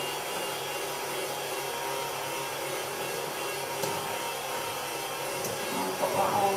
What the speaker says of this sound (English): Whisk that up. Do that for a couple of minutes,